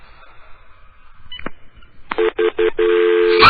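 Touch-tone telephone dialing for a prank call: a short run of close, loud keypad tones in quick rhythm, the last tone held longer, after a click and faint background noise.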